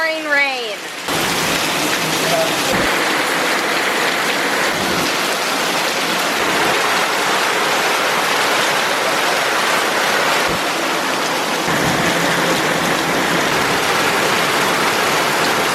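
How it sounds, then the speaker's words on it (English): Heavy pouring rain hisses in a dense, steady wash close by, continuous for the whole stretch, with only a few short dips and no talking. "Pouring rain."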